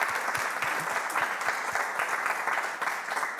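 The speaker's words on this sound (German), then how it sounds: "jetzt geben wir dir erstmal einen Applaus" Audience applause for an author at a book reading and discussion, steady, moderately distant clapping from a seated crowd, even and sustained with no talking over it.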